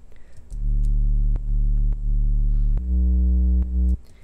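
A distorted sub bass synth in a future bass style, its deep held notes thickened by upper harmonics from the distortion, playing a few sustained pitches in sequence, loud and alone.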